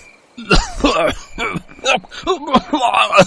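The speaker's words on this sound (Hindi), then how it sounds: "ये किसके खांसने की आवाज आ रही है?" Harsh, repeated coughing fits up close, several rough bursts in a row, loud and strained.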